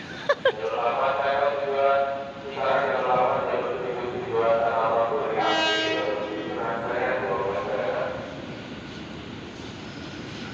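A KRL commuter train to Bogor rumbles past at Manggarai station during evening rush hour, steady rolling noise with a loud horn blast midway and people talking faintly in the background.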